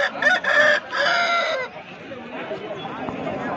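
An Aseel rooster crows loudly nearby in a couple of strained bursts at a poultry market, then softer clucking and farmyard murmur continue behind it.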